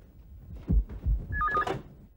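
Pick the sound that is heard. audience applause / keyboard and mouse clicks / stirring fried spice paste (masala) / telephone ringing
telephone ringing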